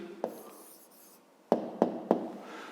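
Pen writing out a math answer by hand on paper, a soft scratchy rub with a few sharp taps of the pen against the page, close and quiet with no talk.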